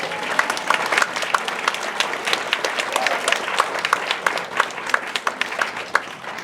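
An audience claps for a woman named Berlina, a dense, steady patter of many hands held at an even level for several seconds, with faint voices mixed into the crowd.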